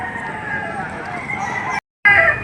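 Yellow-legged Boston Roundhead rooster crowing loudly and close amid crowd murmur at the Padre Garcia livestock auction in Batangas, broken by a brief dropout near the end.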